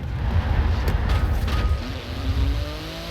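Twin-turbo 3.8-litre flat-six sports car engine in Forza Horizon 4, a deep rumbling drone that swells and eases as revs change, ending in a rising tone.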